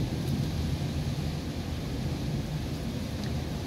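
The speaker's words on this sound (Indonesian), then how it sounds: "mulai kencang lagi anginnya" Steady, loud roar of strong wind mixed with rain hiss during a Hong Kong storm, continuous and unbroken with buffeting at the microphone and no talk.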